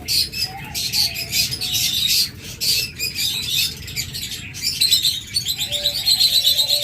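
A pair of Fischer's lovebirds chirping close by, sharp repeated tweets and squawky calls in uneven bursts, fairly loud and continuous.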